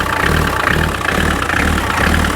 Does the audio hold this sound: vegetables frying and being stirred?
no